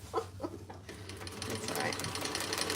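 Sewing machine stitching slippery fabric for a divided basket, a fast steady whirring run that starts after a few halting stitches and carries on loud, with someone talking faintly underneath.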